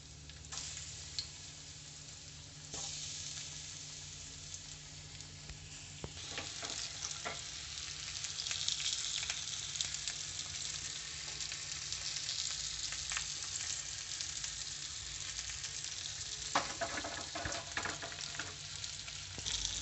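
Spice-coated fish pieces fry on low heat in a pan, a continuous crackling sizzle that holds steady for a long stretch, with occasional small clicks and scrapes.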